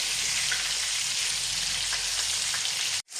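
Meatballs fry in a pan with a steady, dense sizzle and crackle that runs continuously at close range, then cuts off abruptly near the end.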